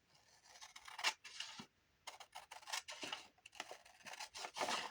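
Scissors cut paper off a scrapbook page in repeated close snips and crisp slicing strokes, with brief pauses between cuts.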